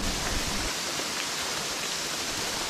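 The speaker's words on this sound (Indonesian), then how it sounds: "Masa ni tiba-tiba hujan pula turun." Rain falling on a mountain trail near a waterfall, a continuous, fairly faint hiss of rushing water and rainfall that stays even throughout with no voices.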